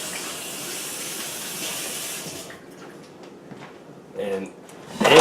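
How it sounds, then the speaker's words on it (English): Hands washed under a running kitchen tap while cauliflower hash browns are being made: a steady rush of water fills the first half, then it stops and a few handling clinks and thuds follow. "So I'm going to wash my hands"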